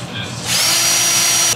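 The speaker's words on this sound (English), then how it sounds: "We gotta drill the holes out so that the screw will fit through." A power drill starts up and whines steadily after a brief quieter moment, boring out slightly undersized screw holes to fit new motorcycle mirrors, loud and close with no talk over it.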